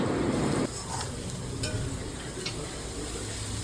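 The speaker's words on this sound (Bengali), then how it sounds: "মাংস কষানো হচ্ছে" Meat being sautéed and stirred in a pan makes a continuous soft sizzle and frying hiss, with a louder rushing burst at the start and faint scraping afterward, close and fairly quiet.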